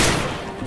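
A single pistol shot fired in a video game, a short sharp crack that decays quickly, close and loud.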